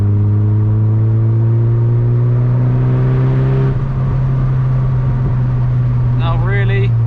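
A Mazda MX-5 Mk2 with a 1.6-litre engine pulling hard in third gear, a loud close droning engine note climbing steadily in pitch, then a brief dip and a sustained hum, with a short whine near the end.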